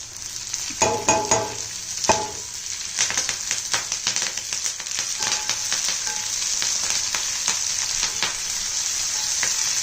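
Garlic, onion and ginger fry in a pan with a continuous loud sizzle, while a utensil stirs them with frequent sharp clicks and scrapes close by.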